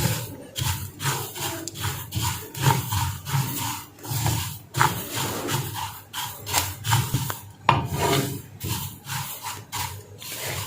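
Whole spices for chaat masala, including white cumin, are dry-roasted in a pan, with repeated scraping and rubbing strokes of stirring in an irregular rhythm, close up and without talk.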